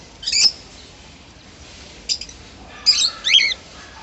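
A pair of lutino cockatiels gives a few short, shrill squawks and chirps in separate bursts, with quiet gaps between the calls.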